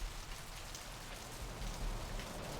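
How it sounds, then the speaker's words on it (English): Steady rain ambience from the Vampire: The Masquerade - Bloodlines video game, a dense even patter of raindrops on surfaces with a low rumble, continuous and moderately loud, with no voices. "look, we got this nice little soundtrack of rain"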